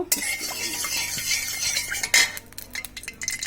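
A little oil stirred in a pan for a prawn and sweet pumpkin fry, loose clattering and scraping of a spoon against metal with a soft sizzle beneath, close up, one sharper knock near the end, no talk.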